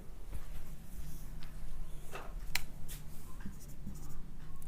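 A math equation is written out by hand during a calculus lesson on radius of curvature, with soft continuous scratching strokes and a few sharper taps, close and quiet.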